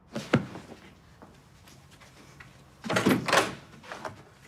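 A door is opened during a heated domestic confrontation, giving a sharp knock-like thud, a pause and then a louder burst of rattling and handling noise, with no speech.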